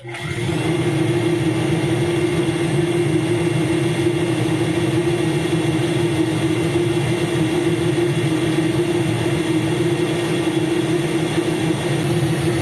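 A homemade corn sheller built from a washing machine motor starts up and runs, a loud, steady electric hum and whirr with a constant mechanical drone, no talk over it.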